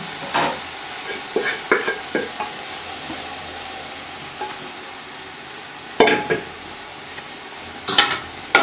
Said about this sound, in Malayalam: ഈ മസാല മൊത്തം പിടിക്കുന്ന രീതി പോലെ നമുക്കൊന്ന് ഇളക്കി കൊടുക്കാം